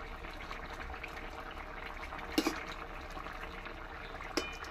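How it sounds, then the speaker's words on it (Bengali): A pot of mixed vegetable curry with added water boils steadily, a quiet bubbling simmer with a few brief clinks standing out. "কি সুন্দর ফুটছে।"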